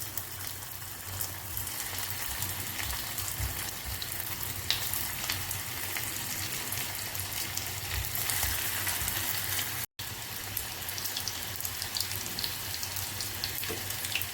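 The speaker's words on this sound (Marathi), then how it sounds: "याच्यामध्ये आता आपल्याला पकोडे फ्राय करून घ्यायचे आहेत." Soya chunk pakoras deep frying in hot oil give a steady, loud hiss and crackle that runs continuously, broken once by a brief dropout, with no voices.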